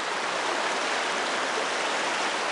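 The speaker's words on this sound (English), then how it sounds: "I'm gonna have to trace through this dirty river about six or seven more times" Dirty, brown river water flowing steadily, a constant loud rushing wash with no pauses and no voices over it.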